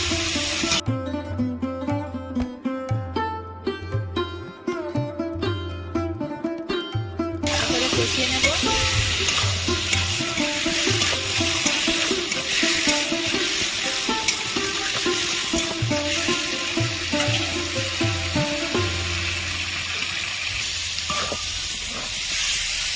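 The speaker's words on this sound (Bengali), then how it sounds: "আমি গ্রেভির মধ্যে আলু পটল ভালো করে কষিয়ে নিয়েছি" Potatoes and pointed gourd fry in a thick gravy while being stirred, giving a loud, steady sizzle close by. Music plays over the opening seconds, then the cooking noise continues alone.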